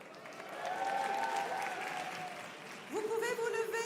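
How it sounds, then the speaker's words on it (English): Applause at a school celebration for management staff being thanked, a steady wash of clapping under a continuing voice over a sound system that shifts pitch near the end. "give you a round of applause"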